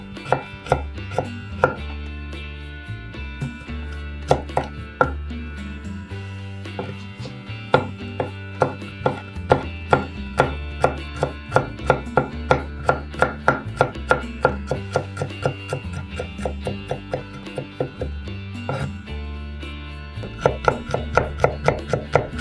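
A kitchen knife finely minces a garlic clove on a wooden board, producing fast, steady, close taps that hold an even rhythm throughout with slight variations in force.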